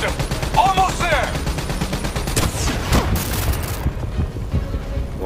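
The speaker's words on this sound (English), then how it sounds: "let's use the SMG" Rapid SMG bursts from Call of Duty: Black Ops 3 during a robot boss fight, sharp cracks layered with booms and game effects in a dense, busy mix.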